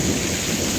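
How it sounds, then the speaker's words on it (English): A thunderstorm roars loudly and steadily, with thunder rumbling under a dense downpour of heavy rain falling in sheets, dripping and drumming on surfaces, close and continuous, with no voices. "Listen to that thunder."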